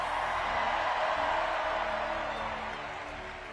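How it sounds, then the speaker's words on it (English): Steady crowd noise of applause and cheering at a political rally in Queens, New York, loud at first and tapering off slightly toward the end, with no voices standing out. "Can we first hear a round of applause for our incredible MC, Sarah Sherman?"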